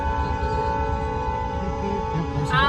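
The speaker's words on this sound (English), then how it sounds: "Oh, there's the dinner train." A dinner train rolls past with a sustained, layered horn blast holding steady throughout, rumbling wheels beneath, at a historic railway setting.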